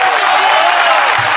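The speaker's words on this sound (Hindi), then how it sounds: "ये तालियां" Audience applause at a speech, a steady wash of clapping from a crowd that fills the whole moment.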